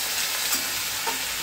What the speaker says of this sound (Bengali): এবারে দিয়ে দেবো আদা কাঁচা লঙ্কা বাটা, আর দিয়ে দিচ্ছি এক চা চামচ জিরে বাটা, ভালো করে নেড়ে চেড়ে নেব।